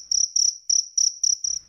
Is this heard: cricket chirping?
yes